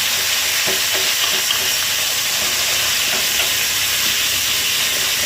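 Minced pork stir-fried with garlic in a hot pan, with a steady dense sizzle and hiss and faint scraping of the spatula throughout, no voices.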